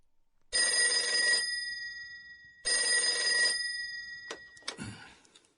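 A telephone bell rings in two long, loud bursts separated by a pause, then stops, followed by a brief clatter as if the receiver is picked up.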